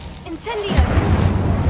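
Casting the Incendio fire spell in Hogwarts Legacy gives a brief whooshing rise followed by a loud, rumbling burst of fire that keeps crackling, with a voice speaking just before it.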